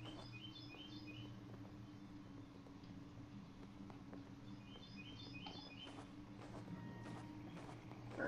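In the game Fran Bow, birds chirp outside a window in short clusters of quick high tweets that repeat several times, faint and distant over a low, steady background hum.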